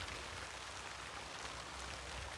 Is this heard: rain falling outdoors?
yes